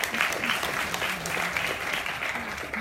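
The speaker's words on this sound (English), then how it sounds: "Big round of applause for all of you." An audience at a research forum claps in a sustained, dense round of applause that carries on evenly throughout.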